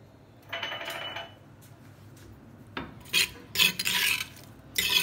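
Onions sautéing in oil for a Punjabi mutton kunna are stirred in a pan, giving quiet, intermittent scraping and sizzling bursts separated by short pauses.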